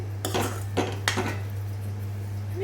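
A utensil stirs sweet kachagolla mixture in a pan over low heat, making a few distinct scraping strokes against the metal over a steady low hum, then settling into quieter stirring, close by with no voices.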